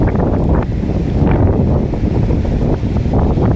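Strong wind buffets the microphone at Kovalam beach, a steady, loud broadband roar with low rumbling gusts and no pauses. Surf may sit beneath it, and no voices are heard.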